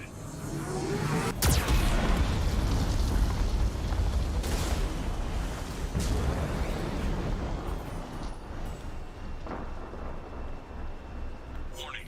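Geth cannon fire in Mass Effect 2, a sudden heavy boom followed by a long rolling rumble that slowly fades, with a synthetic voice speaking over it.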